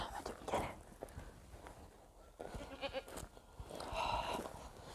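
Goat bleating in a rural setting, a few short, faint calls spread across the moment with scattered rustling and footstep-like noises in the background.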